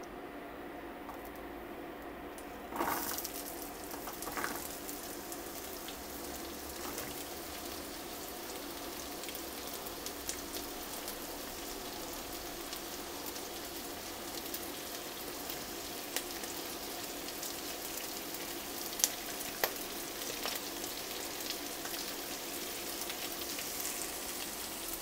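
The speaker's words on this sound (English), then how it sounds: "I'm going to saute the onions until they're softened, and as they begin to soften, I'm going to add the garlic and cook that through as well" Onions and garlic sauté in a pan for a minced beef pie, giving a long, even, gentle sizzle with sparse crackling pops and a brief stir near the start. Nobody talks.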